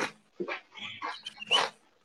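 A dog gives a quick series of short, close barks and yips, about five bursts in two seconds, fairly faint and with no talk.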